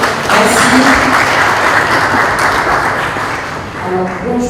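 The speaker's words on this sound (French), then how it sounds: "Sous vos applaudissements, s'il vous plaît." Loud burst of audience applause at a Credassur conference in a Pullman hotel, full and sustained before thinning out, with a voice faintly starting at the end.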